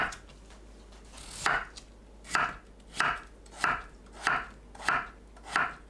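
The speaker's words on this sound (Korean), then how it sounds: "감자를 채 썰어 주세요." Knife julienning potato on a cutting board, a series of about eight crisp, close chopping taps with a few quick light cuts early on, then evenly spaced strokes roughly every two-thirds of a second, heard alone.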